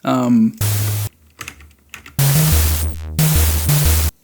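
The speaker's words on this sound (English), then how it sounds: "probably all you hear it now is just white noise like that" A white-noise crash cymbal layer in a music track plays as loud bursts of hiss over synth bass notes, starting and stopping abruptly several times, with a falling sweep in the middle.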